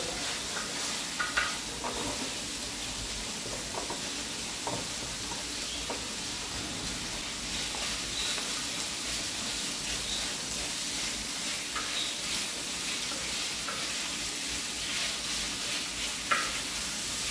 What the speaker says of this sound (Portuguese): daí vou colocar a linguiça calabresa e cebola. Ó, pra dar uma fritadinha também na cebola.